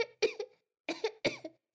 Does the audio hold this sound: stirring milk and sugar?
no